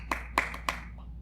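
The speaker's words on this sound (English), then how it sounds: "So we say this, I clap, you clap." Three sharp hand claps ring out in quick succession in a quiet room, fairly faint and evenly spaced.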